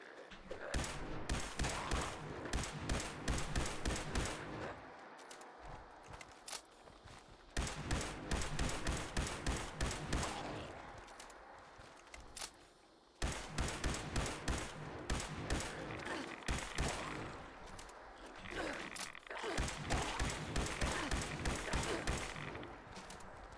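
Rapid, sustained automatic gunfire in a video game, coming in long repeated bursts with short pauses between them, loud and close throughout.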